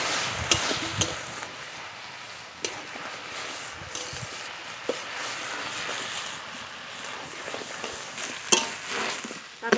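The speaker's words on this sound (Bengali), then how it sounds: "এবার নেড়ে নেড়ে জলটা শুকিয়ে তারপরে নামাবো।" Catla fish head muri ghonto with cabbage is stirred in a pan as the water cooks off, a soft continuous sizzle broken by occasional scrapes and clinks of the spoon, with no talk.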